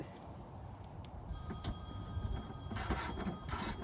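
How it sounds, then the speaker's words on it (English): A telephone rings in a room with a steady high electronic tone, with faint clatter and background noise; no one speaks. "The telephone is ringing."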